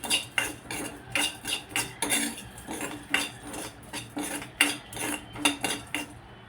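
Garlic cloves and curry leaves roast in a pan with one spoon of oil, stirred by a metal spoon that scrapes and clinks against the pan in a quick, repeated rhythm close by.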